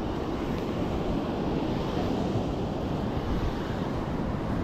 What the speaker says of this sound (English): The waves are a bit crisscrossy there.